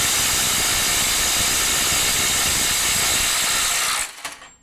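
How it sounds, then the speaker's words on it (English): A FLEX 24V compact impact wrench hammers continuously at a stubborn nut for about four seconds, a loud dense rattling buzz that stops abruptly once the nut breaks free. "So we broke free roughly 550, 600 foot-pounds with these compact impact wrenches"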